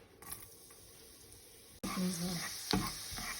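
Crab stir-fried with curry powder in a pan: a quiet kitchen bed jumps to a loud, dense sizzle midway and stays busy with scraping, stirring noise.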